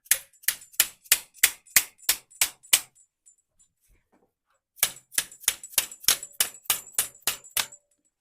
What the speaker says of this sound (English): now I'll just finish closing it up with my hammer.